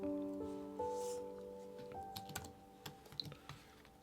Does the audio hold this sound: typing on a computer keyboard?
yes